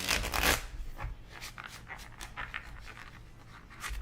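Cards are shuffled in quick riffles and soft slaps close up, a brief loud flurry at the start followed by lighter rustling bursts.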